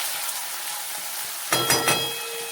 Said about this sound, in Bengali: চলো ততক্ষণ আলুটা একটু ভাজা হয়ে যাক